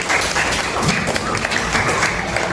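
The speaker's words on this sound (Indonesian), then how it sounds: "Tepuk tangan dulu buat Putri." A classroom of students claps for a classmate who answered a question, a brief burst of dense, lively applause from a small group nearby, with a few voices mixed in.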